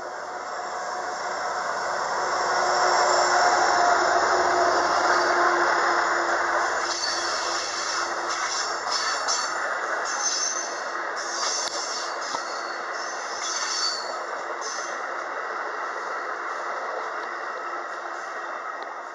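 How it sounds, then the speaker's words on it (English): An Amtrak train rolls past in a long, steady rushing roar with hissing wheel and rail noise, swelling early and then holding for the rest of its passage. "I caught the Amtrak."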